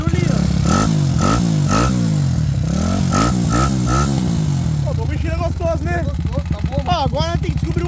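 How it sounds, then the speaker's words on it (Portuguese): A small 240cc motorcycle engine, a CG Today, cranks on the electric starter and catches, then idles with a steady rough putter, loud and close, with a voice talking over it near the end. "Dá uma partida elétrica aí."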